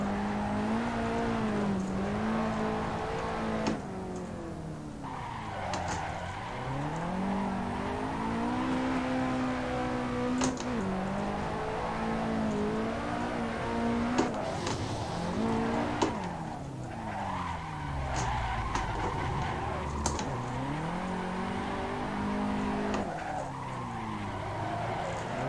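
A drift car on a street course in Assetto Corsa, a racing simulator, squeals its tires through long slides while the engine revs rise and fall in repeated sweeps, loud and continuous, with no talking.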